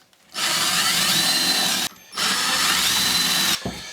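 A power drill bores into wood for a shop-made push stick, two loud sustained whirring runs of about a second and a half each, separated by a short pause and ending abruptly.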